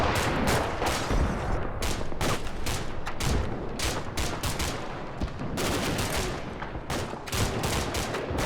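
A firefight in the video game Combat Mission: Cold War: sharp, closely packed gunshots and machine-gun bursts hammer on steadily and loudly, with barely a pause between reports.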